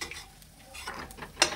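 Chironji seeds being roasted and stirred in a thick heavy kadhai, a soft continuous scraping and light sizzle with a sharper clink of the spoon near the end, close and moderately loud.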